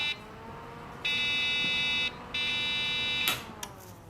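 Computer motherboard giving error beeps after faulty RAM is installed: two long, loud, shrill buzzer tones about a second each, separated by a short gap, over a faint background hum, followed by a brief click.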